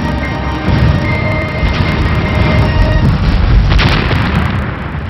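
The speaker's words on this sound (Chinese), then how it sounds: "投下的炸弹在地面炸出巨大火光，伴随震耳欲聋的爆炸声" Bombing explosions roar through a projection show inside an air-raid shelter dome, a loud, continuous rumbling boom with heavy low-end weight that swells and fades over several seconds, with no speech.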